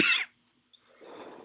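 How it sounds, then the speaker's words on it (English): A single short cough bursts out at the start, close and fairly loud, followed by silence and then faint low background noise. "And I apologize for this coughing"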